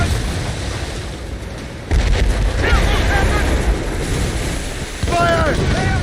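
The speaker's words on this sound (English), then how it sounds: "They're firing mortars!" Mortars fire from a sailing ship in Assassin's Creed Rogue: deep booming blasts over a rumbling naval battle, with voices shouting amid the din.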